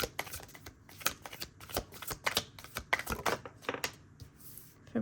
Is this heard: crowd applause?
no